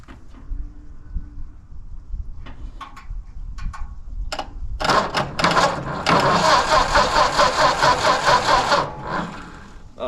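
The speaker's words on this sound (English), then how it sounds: "We're gonna try the first fire with this proper wiring." A Ford tractor engine being revived fires up after a few sparse ticks and coughs, catching into a loud, rhythmic, pulsing run that holds for several seconds before easing off.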